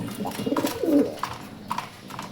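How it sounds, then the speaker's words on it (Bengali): Breeding pigeons coo in a loft, a few soft, low throaty calls rising and falling close by over about two seconds, with no talk. "এগুলো হচ্ছে আমার ব্রিডার কবুতর"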